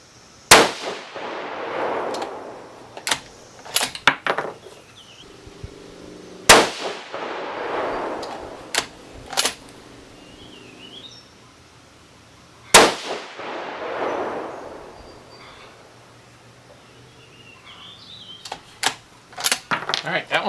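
Three sharp, loud 6.5 Creedmoor rifle shots firing Barnes 140gr Match Burner loads, spaced roughly six seconds apart, each with a decaying echo, plus lighter metallic clicks and clanks between them.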